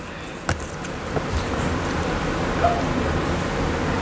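A few distant dog barks, short and scattered, over a low steady background hum.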